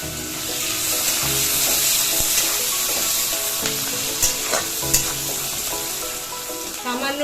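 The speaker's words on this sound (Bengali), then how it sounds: "গোটা মশলাটাকে আমি একটু ভেজে নিচ্ছি।" Whole spices, cumin, chopped garlic and onion fry in a pan with a loud, close sizzle, while a utensil stirs and scrapes in irregular bursts and a few sharp clinks sound near the end.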